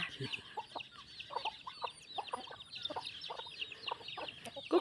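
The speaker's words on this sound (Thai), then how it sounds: "กุ๊กไก่ น้องไก่ กุ๊กกุ๊กน้องไก่กุ๊ก กุ๊กไก่ นะคะทุกคน" Native farmyard chickens cluck steadily in short repeated bursts, with brief rooster-like calls mixed in, all at moderate distance with no talking.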